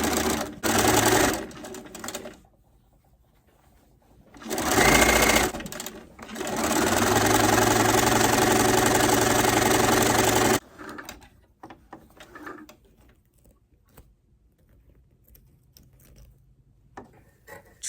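A sewing machine stitches binding onto a quilt in loud, steady whirring runs, one short burst, a pause, then a long continuous run before it stops and quieter handling sounds follow.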